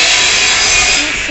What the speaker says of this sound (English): So I've been using a lot of sandpaper. Massive roll of 40 grit. Massive roll of 80 grit.